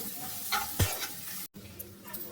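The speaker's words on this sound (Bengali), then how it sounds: "সোয়াবিনটা দিয়ে দিচ্ছি দিয়ে এটাকে আমি নাড়াচাড়া করবো" A loud sizzle of soaked soybean chunks frying in a pan for vegetarian khichuri, stirred with scraping strokes, and a brief sharp clatter near the start.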